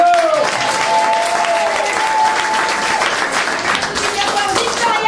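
A group claps together in steady, dense applause that carries on throughout, with a voice speaking over the clapping.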